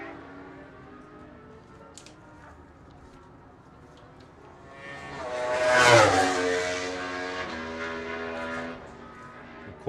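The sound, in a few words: racing motorcycles passing at Cookstown 100 road races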